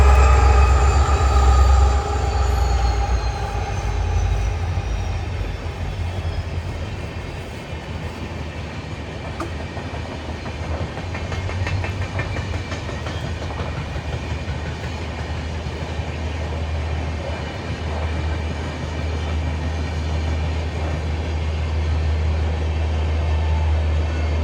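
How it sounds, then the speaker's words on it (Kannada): A train rolls past close by in one long, loud, continuous rumble with a metallic wheel squeal. The roar swells and holds steady with no talking. "ಇನ್ನೊಂದು ಟ್ರೈನ್ ಬಂದಬಿಡುತ್ತೆ."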